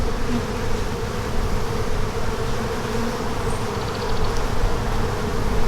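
Honeybees buzz steadily and densely during a hive inspection of an April package colony, a continuous near drone with no talk over it.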